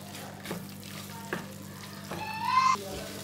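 Spiced masala frying in oil in a pan for a matar paneer curry, stirred with a spoon, giving a soft steady sizzle with a few scraping strokes and a brief louder stir near the end.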